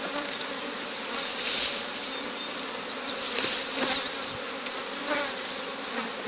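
Honeybees buzz around an opened hive during a hive division, a soft continuous droning hum with gentle swells as bees pass closer, no voices.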